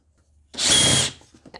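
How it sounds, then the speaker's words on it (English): A power drill runs in one short burst of about half a second, removing screws from the air intake and cabin filter housing of a W220 Mercedes S-Class or E320 V6, followed by faint handling clicks. "If you have a power tool, it's going to be a lot easier to use this one."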